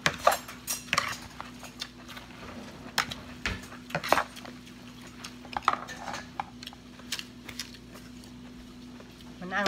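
Pig ear salad is tossed in a bowl, with scattered clinks and scrapes of utensils against the dish in an irregular rhythm. The sounds are close but fairly soft, with a faint steady hum and occasional murmured speech underneath.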